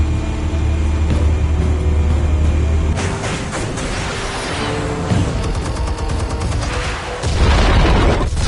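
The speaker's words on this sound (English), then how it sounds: "Explosives armed. Fire when ready." Explosives detonating in the Batman Telltale game, loud booming blasts and crackling bursts that surge at about three seconds and again near the end, with no talk over them.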